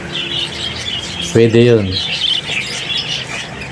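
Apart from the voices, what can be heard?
pet bird squawking and chirping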